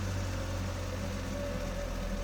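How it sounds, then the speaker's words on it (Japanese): A car engine hums steadily at idle in an otherwise silent setting, with a constant low rumble and no voices. There is no distinct cranking or ignition moment. "キーを回すと、静まり返った周囲にエンジン音が鳴り響いた"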